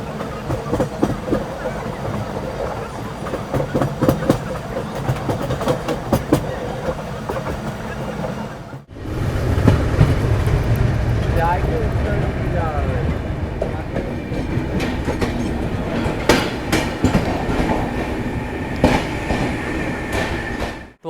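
The 15547 Raxaul–Lokmanya Tilak Mumbai Antyodaya Express runs on the Indian Railways route via Patliputra, heard as a loud, steady rumble with rhythmic clickety-clack and a brief cut midway. A voice talks underneath the train noise.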